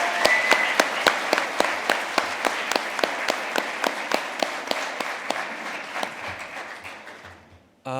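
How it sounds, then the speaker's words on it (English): Applause at a youth awards ball, with a crowd clapping in a fairly rhythmic, even beat of sharp hand claps that gradually fades before a brief burst of sound at the end. "Can we give them a round of applause?"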